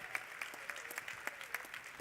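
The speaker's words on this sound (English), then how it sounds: "Round of applause for Tilly, ladies and gentlemen." Faint, distant audience applause for a presenter at a youth conference event, a thin scattering of claps with a few sharper individual hand claps standing out, heard alone without talk.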